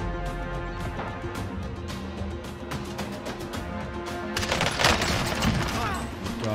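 Rapid gunfire crackles in an online shooter match around a sniper flick shot, a run of sharp repeated reports that swells into a louder burst near the end, with voices in the mix.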